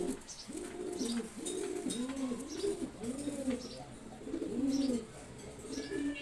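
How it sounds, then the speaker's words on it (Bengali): A pair of red checker racing pigeons coo over and over nearby, each call a soft, swelling low burble in a steady, rhythmic run. No one speaks. "রেড চেকার কবুতর জোড়া, রেসার কবুতরের একটা জাত রেড চেকার কবুতর।"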